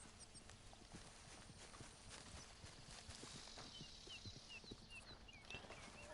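Horse hooves in Red Dead Online clop quietly and unevenly at a walk, faint and somewhat distant, with soft birdsong and outdoor ambience around them.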